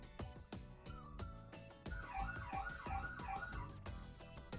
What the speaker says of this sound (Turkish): Alarm sesini buradan ayarlayabiliyorsunuz.